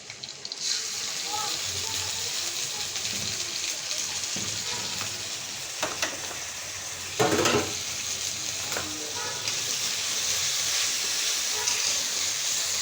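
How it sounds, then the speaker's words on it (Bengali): Ginger, garlic and onion spice paste sizzles in a pan for a fish dish with Malabar spinach and potato, a steady broadband hiss with a few brief scraping stirs and a louder burst midway. "এখন আমি আদা, রসুন, পেঁয়াজ মশলাটা দিয়ে দিলাম।"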